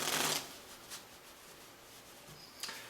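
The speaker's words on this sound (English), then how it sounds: "he just gave the deck a couple of shuffles" A deck of playing cards shuffled by hand, a short riffling burst at the start and another near the end, with faint handling sounds in between, close and quiet with no talking.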